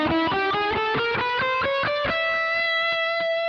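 An electric guitar with distortion plays a chromatic blues scale, filling in every note between the scale tones. Quick, evenly picked single notes step upward one after another, then settle on a sustained final note.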